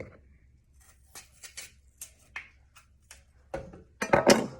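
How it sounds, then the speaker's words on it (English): A knife cuts out the core of an apple half, giving a series of small crisp snips and taps that build to louder crunchy cuts at the end, close and with no talking. "We're gonna cut out the core."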